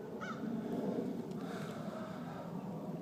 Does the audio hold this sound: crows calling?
yes